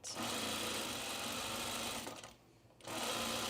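Home sewing machine stitching a seam on a pre-quilted Tamarack jacket, a loud, fast continuous mechanical whir that briefly stops and then resumes.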